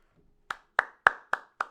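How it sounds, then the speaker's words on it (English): Five sharp hand claps ring out alone at an even, deliberate pace, each crisp and close with a brief room echo, after a short near-silence. "Let's give a round of applause."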